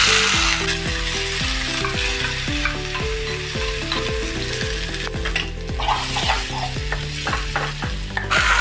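A spoon stirs and scrapes a corn breakfast mixture with coarsely ground fennel and spices through hot oil in a pan, in repeated rhythmic strokes over a steady close sizzle.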